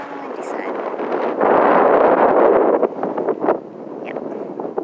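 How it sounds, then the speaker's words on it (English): Wind blows across a mountain summit during a hike up Mount Scott, with loud gusts buffeting the microphone and a strong roaring surge midway, while people talk. "It's definitely a bit on the windy side."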